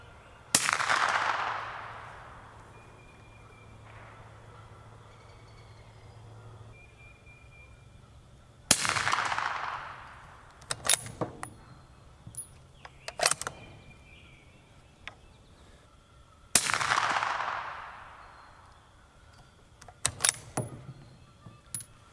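Suppressed 6.5 Creedmoor rifle firing 140 grain ELD Match subsonic rounds: three sharp, fairly quiet reports several seconds apart, each with a short ringing tail, with small clinks and clatter between shots.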